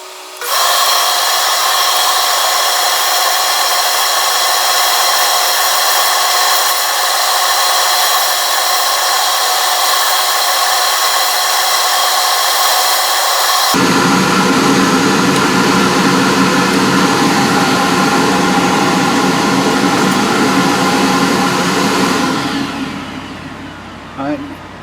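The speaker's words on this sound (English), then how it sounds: "I'll turn it down until I get to 12 millimeters" A wood lathe turns a wooden pencil blank down to 12 millimetres, producing a loud, continuous motor whine with a rougher cutting roar in the second half before the machine winds down at the end.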